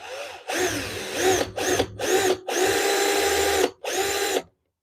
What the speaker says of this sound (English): and then I'm drilling a pre-drilling for the whole screw